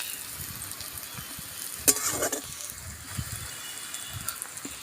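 Onions and potatoes frying in a pan give a steady soft sizzle, with a brief louder crackle and stir about two seconds in, then low, even frying noise.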